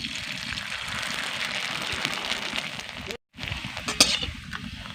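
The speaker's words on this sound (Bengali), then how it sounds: "উল্টে পাল্টে পাঁপড়গুলোকে ভেজে নেব" Steady crackling sizzle of rice-flour papad frying in hot oil, loud and close, with a brief dropout near the end followed by sharper pops.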